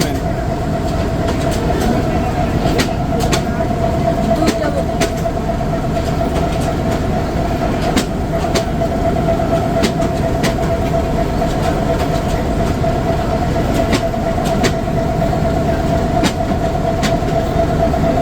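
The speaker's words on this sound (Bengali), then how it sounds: "এবারই ট্রেনটি তিস্তা ব্রিজের উপরে প্রবেশ করবে" A Dolonchapa Express passenger train runs on the Kaunia–Parbatipur line toward the Teesta bridge, its loud, continuous rail rumble heard up close with faint clickety-clack beats throughout.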